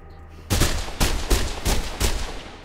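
Gunfire in the video game Mirror's Edge: five sharp shots at roughly half-second intervals, loud and close, each with a short ringing tail and no talking.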